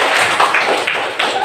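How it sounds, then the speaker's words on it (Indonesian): A classroom of students claps together, a dense burst of hand claps filling the room, loud and close throughout the short moment. "Kita beri tepuk tangan dulu."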